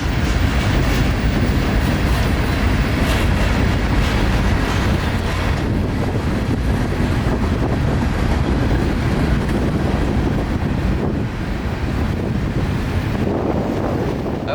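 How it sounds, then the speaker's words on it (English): CSX freight train of flip-top hoppers rolling past in Central Florida, a loud continuous rumble and rattle of cars close by, with heavy wind buffeting on the microphone throughout. "This small block of CSX flip-top hoppers are probably returning to the Bone Valley from repairs in the Waycross car shops."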